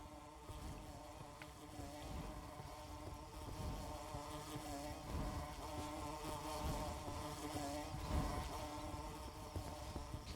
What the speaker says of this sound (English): Ooh, I found bees.